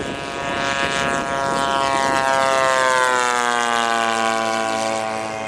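A P-47 propeller plane roars past low and close on a valley run at an air show demo, its engine drone sweeping downward in pitch as it passes, steady and loud throughout.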